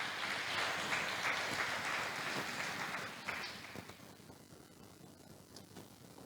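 Church congregation applauding: a faint wash of clapping that holds steady for several seconds, then thins and fades toward quiet.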